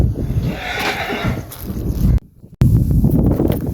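A nearby horse whinnies and snorts while its hooves shuffle and clop outdoors. The sound cuts to near silence for a moment, then the hoof and movement noise resumes.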